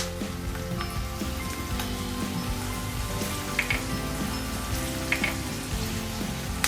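Quail meat fries in a pan at home with a steady, dense sizzle and occasional sharper pops and spatters. The sound runs close and continuous, with no voices.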